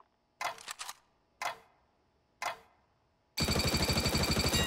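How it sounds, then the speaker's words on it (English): Video game gunfire on a weapons training course: three short, separate bursts of shots, then a loud, dense, sustained stretch of rapid fire closing the clip, with no talk. "Fire in short, controlled bursts."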